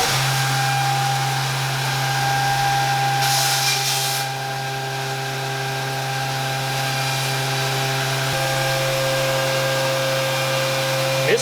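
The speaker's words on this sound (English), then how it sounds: "Big boy face mill." A Haas VF2SS CNC mill running a large face mill at full feed rate, producing a loud, steady machine drone with constant tonal whine and a brief hissing burst of coolant mist.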